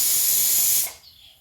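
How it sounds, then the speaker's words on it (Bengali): A pressure cooker cooking duck meat lets off a loud, forceful hiss of escaping steam that cuts off abruptly partway through, leaving near silence. "এই প্রেশার কুকারে 2-1টা সিটি দিয়ে নিতে হবে"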